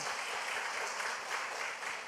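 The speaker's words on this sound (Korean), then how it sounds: "박수 한번 쳐봐요." A church congregation claps together during a sermon, a short, even burst of applause heard from a middle distance.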